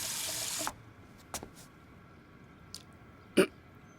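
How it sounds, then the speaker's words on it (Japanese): A restroom tap runs briefly while someone washes hands after flushing: a short gush of water that stops early, then a few faint clicks and knocks in a quiet room. "用を足したら水を流す。 手を洗う。"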